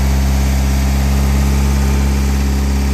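A petrol generator runs at high revs with its throttle choke fixed open, a loud, steady droning hum with strong low harmonics that holds unchanged for the whole stretch, close by and with no voices.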